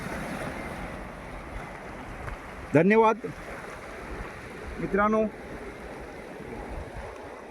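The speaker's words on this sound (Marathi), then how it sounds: "हा कोळंब बीच हे तुम्ही समुद्रकिनारा पाहिला नसेल तर अवश्य भेट द्या" Waves break on the shore at Kolamb beach as a soft, continuous wash mixed with wind. Someone speaks briefly twice over the surf.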